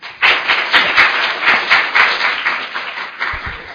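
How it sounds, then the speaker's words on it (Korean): Audience applause fills a panel discussion hall on electoral reform as a moderator is welcomed, steady dense clapping from many hands that swells quickly, holds, then thins toward the end. "다 같이 박수로 최태욱 교수님 맞이하겠습니다."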